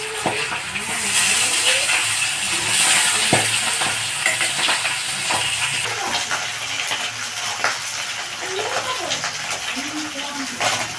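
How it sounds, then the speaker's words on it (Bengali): Fish frying in hot oil, a continuous loud hiss and spluttering with frequent sharp pops throughout, while people talk over it at intervals. "তেল গরম হয়ে গেছে, মাছগুলোকে তেলের মধ্যে দিয়ে দেবো।"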